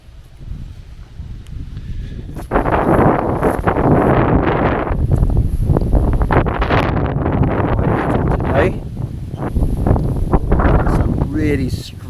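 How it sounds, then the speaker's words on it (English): Strong wind buffets the microphone outdoors near a small wooden bridge at a Danish royal castle, loud roaring gusts rising after a quieter start and rumbling on under intermittent talking. "You can hear the wind, can't you?"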